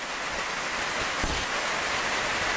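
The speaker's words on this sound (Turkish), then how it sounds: "Ey gidi yağmurun sesine bir bak Atif." Steady rain patters against a surface, a dense even hiss with no voices, one faint soft thump midway.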